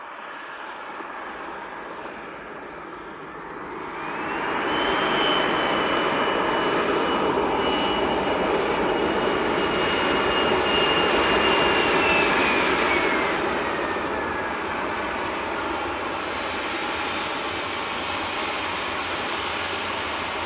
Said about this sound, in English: So this is Jet2 from Nice in the south of France.